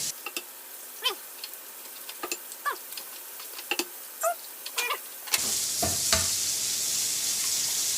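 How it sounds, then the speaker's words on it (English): Four eggs cracked one after another into a cold, unheated pot, heard as sharp taps and wet plops spaced across a few seconds, followed by a louder steady hiss of frying from a nearby pan. "We're just going to put the eggs right in directly into the pot"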